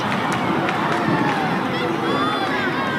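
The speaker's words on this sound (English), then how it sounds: "as the crowd become vocal, backing their Canberra United team, a very loyal band of supporters" Loyal supporters of Canberra United roar and chant in a steady, dense crowd wash at a women's W-League football semi-final against Melbourne City, with whistles and shouts rising through the continuous noise.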